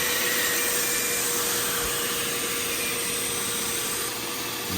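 Carpet extractor working over the carpet inside a Ford F-250 OBS pickup with a 7.3 diesel, a steady close vacuum-like whine and suction roar running continuously and loud throughout.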